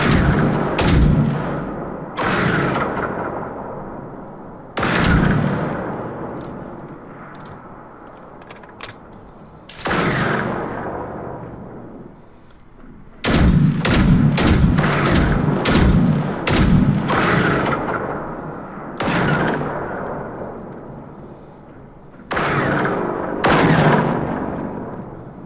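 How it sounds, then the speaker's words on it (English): Rocket launcher blasts and gunfire in Generation Zero: heavy booming explosions and clusters of sharp shots recur every few seconds, each with a long fading tail, loud and close, with no talking. "Want me to light him up with a rocket launcher?"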